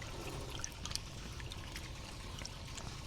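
Warm water pours steadily into a container of soapy water for washing raw alpaca fleece, a faint, continuous splashing trickle with small bubbling drips.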